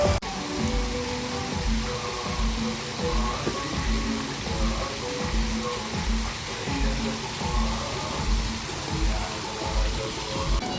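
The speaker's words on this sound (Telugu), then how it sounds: "ఈ వాటర్ ఫాల్ చాలా చాలా బాగుంది" A waterfall at the Sheikh Zayed festival at Al Wathba, Abu Dhabi pours in a constant loud rush like heavy rain, with music and crowd noise underneath.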